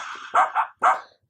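Dog bark preset played on a Miracle Piano keyboard: three quick, bright synthetic barks, two close together then one after a short gap, loud and clean with no talking.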